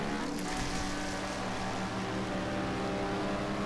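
Corvette engine droning from behind in a racing video game, a steady tonal whine and rumble that holds level throughout, with no clear rise as it approaches.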